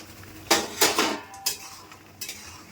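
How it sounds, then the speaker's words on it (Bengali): A metal lid lifted off a cooking pot of fish curry with ridge gourd and potato: a few sharp metallic clanks and scrapes in quick succession, then a couple of lighter knocks, close and fairly loud. "ঢাকাটা তুলে নিচ্ছি"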